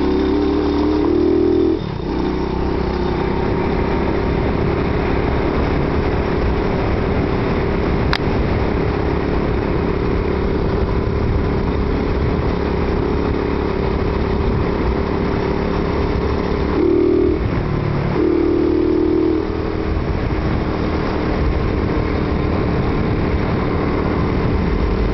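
Pit bike engine running steadily through mud, ridden without the clutch, a loud continuous mid-pitched drone with brief revving bursts near the start and again around seventeen seconds.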